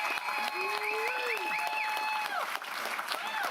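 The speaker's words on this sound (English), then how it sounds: "Let's give Mr. Davis a round of applause." Audience applauding at a county board of supervisors meeting, steady clapping from a room full of people lasting throughout, with a voice talking over it.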